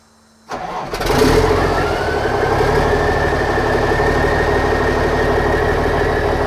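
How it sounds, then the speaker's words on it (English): A Ford L9000 AeroMax truck engine starts after brief silence, cranking into a loud, steady diesel idle that holds close and continuous to the end. "start the truck"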